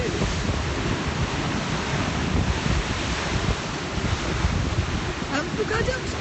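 Sea waves wash steadily at the ancient port of Akko, a constant loud roar of surf thickly mixed with wind buffeting the microphone throughout.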